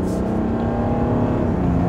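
Audi Q8 SUV engine building revs as it accelerates out of town, a steady close rumble with a strong low drone and no talk over it.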